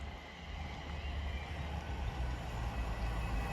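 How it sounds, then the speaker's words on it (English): An express train rushes through a station on a rail line near St Neots and Sandy, a steady loud rumble of wheels and carriages lasting throughout with no voices. "Another express going through."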